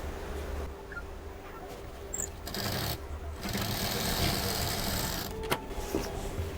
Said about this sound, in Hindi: इसके ऊपर लगा करके इसको सिल देंगे